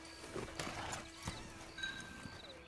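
Horse hooves clip-clopping at a slow walk in the video game Red Dead Redemption 2, a few soft, uneven hoof knocks at moderate distance over a quiet game ambience, with no talking.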